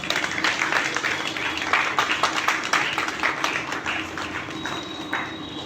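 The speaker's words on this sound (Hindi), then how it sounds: "तालियां एक बार।" An audience at a student awards ceremony applauds steadily, dense overlapping claps filling the hall at moderate loudness for several seconds, with some voices faintly underneath.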